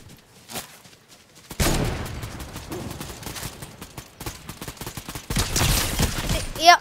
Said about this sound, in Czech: Někdo tam střílí.